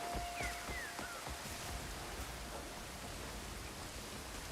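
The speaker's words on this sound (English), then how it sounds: "It's raining as well." Steady rain falls in an open-world desert setting in the video game Crimson Desert, a continuous hiss of close, even rainfall with a few faint tonal chirps early on.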